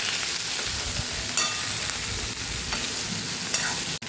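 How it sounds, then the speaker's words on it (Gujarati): Capsicum and potato with coriander-cumin powder sautéing in a pan, a constant close, loud sizzle with the scrape of a stirring spoon breaking through now and then, no voices. "આપણે સરસ સાતળી લીધું છે"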